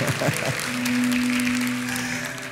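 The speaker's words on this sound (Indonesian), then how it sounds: "tepuk tangan jangan nanggung, yang hidup tepuk tangannya" A church congregation claps during a sermon, a dense steady patter filling the room, with a sustained tone or hum running beneath it through most of the stretch.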